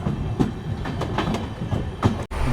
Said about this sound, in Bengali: ডানকুনি থেকে ফাইনালি ছেড়ে দিল আমাদের ট্রেন, এখন বেরিয়ে যাচ্ছে দুর্গাপুরের উদ্দেশ্যে।